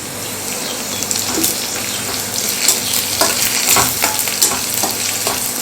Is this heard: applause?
no